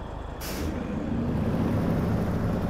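A heavy truck in the Snowrunner video game lets out a loud air brake hiss at the start, then its engine rumbles steadily and close, filling the rest of the moment alone without any talk.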